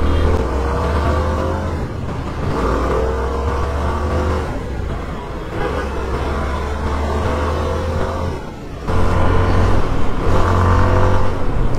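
A CF Moto SR 250 motorcycle engine drones steadily while riding through traffic, its close, loud hum rising and falling in several long throttle swells with a brief dip near the end.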